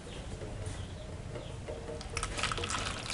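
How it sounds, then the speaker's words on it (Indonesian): Coconut moss pudding being poured into a mold, a soft faint liquid trickle and splash that continues throughout and grows slightly fuller toward the end. "Sekarang dituang."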